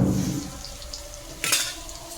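Pointed gourd (potol) pieces frying in hot oil in a kadai, a steady low sizzle with a brief clatter of a spatula or utensil against the pan midway.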